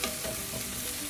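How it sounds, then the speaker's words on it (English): Mushrooms frying with onions in butter and oil, a faint, even, continuous sizzle with no distinct stirring strokes. "Cook the mushrooms until they brown"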